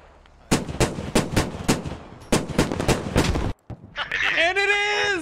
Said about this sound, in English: Oh, is that another IED?